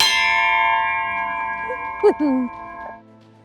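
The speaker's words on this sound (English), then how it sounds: "this is a functioning working ship's bell" A working ship's bell aboard a historic presidential yacht rings out in one clear, resonant strike that slowly fades, with a brief voice sounding over the decay.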